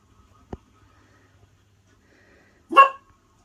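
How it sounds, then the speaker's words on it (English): A single short dog bark rings out close by near the end, after a faint thump and a long near-silent stretch, with no talk over it. "No barking, Alba."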